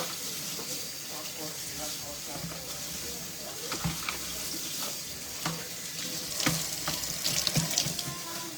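Dishes being washed under a running tap in a home kitchen, a steady hiss of water with scattered clinks and knocks of crockery, close and moderately loud, with some background kitchen noise.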